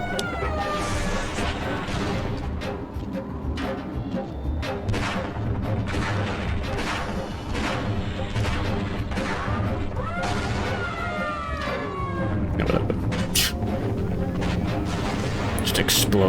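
Explosions and gunfire in Voices of the Void, repeated booms and cracks over a dense rumbling background with a rising siren-like tone, while people talk throughout.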